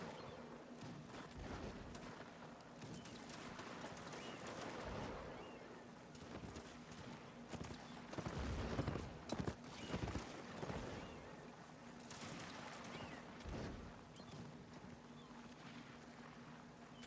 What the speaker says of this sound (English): Somehow missed that horse.